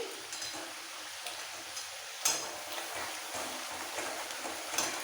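Masala sautéing in a pan for a doi pomfret fish curry, with a soft, steady frying crackle and a few sharper stirring clinks. The sound is fairly quiet and close, and no one talks.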